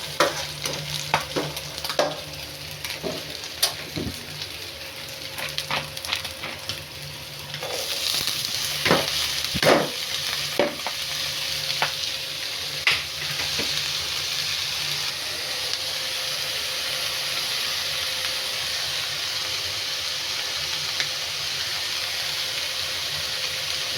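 Curry being tempered in a pan, a continuous close sizzle broken by repeated sharp clanks and scrapes of a utensil stirring against the metal, with frying growing louder midway.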